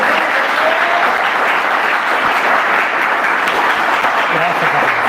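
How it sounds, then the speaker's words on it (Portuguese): A church congregation breaks into loud, sustained applause, a thick continuous wash of clapping from many people that stays strong throughout, with some voices mixed in. "Você pode dar um aplauso a Jesus?"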